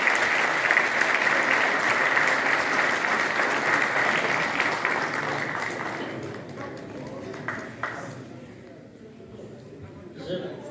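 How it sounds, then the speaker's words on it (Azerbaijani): Film premiere audience at the Nizami Cinema Center in Baku clapping loudly in a dense, sustained burst of applause that gradually thins and fades out, leaving scattered claps and room noise. "alqışlar yaradıcıya"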